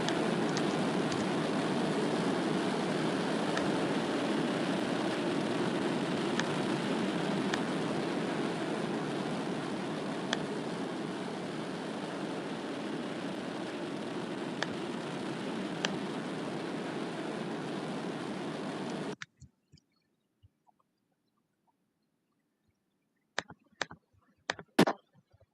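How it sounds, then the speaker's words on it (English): Rocket engines roar as a steady, broadband rush during ascent, slowly easing in level for about nineteen seconds. The sound then cuts off abruptly to near silence, broken only by a few faint clicks. "You can hear engines getting quieter and quieter as we are more up in the atmosphere."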